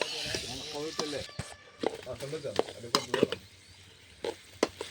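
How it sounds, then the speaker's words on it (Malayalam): Chopped tomatoes go into a sambar pot outdoors, sizzling and frying with scraping stirs and clinks of utensils, a soft background sizzle broken by sharp knocks, while people talk throughout. "തക്കാളിയും ചെറുതായിട്ട് ഇട്ട് കൊടുത്ത്"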